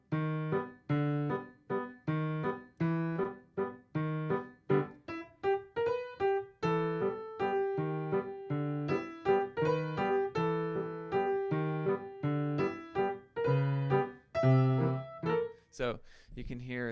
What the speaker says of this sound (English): So you can hear the hidden melody in the bass notes of that left-hand pattern.